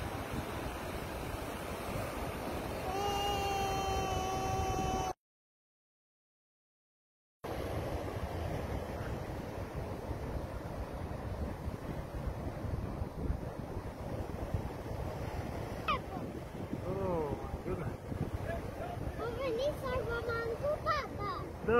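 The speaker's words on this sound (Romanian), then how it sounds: "Uite acum vine valul mare." Large ocean waves crash and surge at a beach where a bride and groom pose for wedding photos, a steady roar of surf and wind buffeting the microphone, with excited voices calling out over it.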